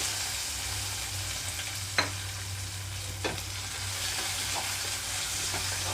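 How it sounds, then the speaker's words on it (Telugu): Chopped ivy gourd and red chillies fry in hot oil with a continuous, even sizzle, broken by a couple of brief clinks from a utensil. "ఇక్కడ ఆయిల్ అంతా హీట్ అయిన తర్వాత కట్ చేసి పెట్టుకున్న అన్నీ వేసుకుంటున్నాను"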